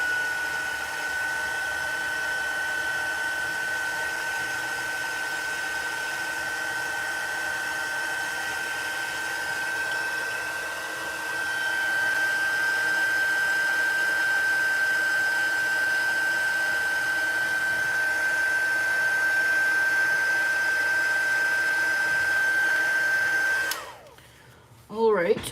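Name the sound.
hair dryer drying mixed media art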